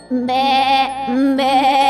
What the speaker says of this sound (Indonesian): itu ada kambing di sekolahan